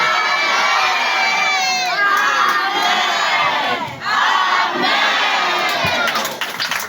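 A church congregation erupts in loud, sustained cheering and acclaiming at a Christian service, a dense wall of many shouting voices with a brief dip in the middle before surging again.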